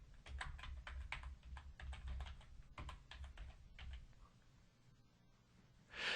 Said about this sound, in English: we'll type in the name of our first video, which is ballooning.f4v